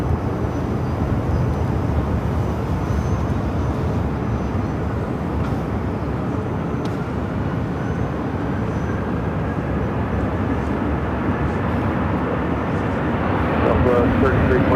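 A United Airlines 737-800 jet takes off from Phoenix, a continuous broad engine roar that swells slightly toward the end, with people talking over it throughout.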